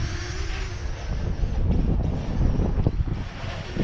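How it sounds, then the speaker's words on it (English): Steady, loud wind buffeting a microphone outdoors while a tiny MJX Bugs 3 Mini drone flies, a continuous roaring rush with gusty swells and no voices. "Wind is picking up, yo."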